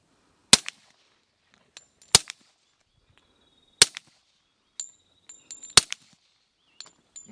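Suppressed gunshots at an outdoor shooting range: four loud, sharp cracks spaced about a second apart, with fainter clicks and small pops between them and no voices.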